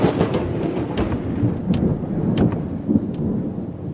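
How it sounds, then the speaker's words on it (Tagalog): Thunder sound effect in a Filipino aswang horror audio drama, a rolling, rumbling thunderclap with sharp crackles over a dense low roar, loud and alone. "Hindi pa ako natatapos sa pagsasalita nang biglang kumulog."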